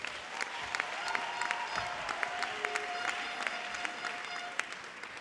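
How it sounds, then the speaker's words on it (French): Audience applause for a beauty pageant finalist, candidate number two, as she joins the host on stage: dense steady clapping from a large crowd, sustained evenly throughout with a few sharper claps standing out. "Vous pouvez l'applaudir bien fort."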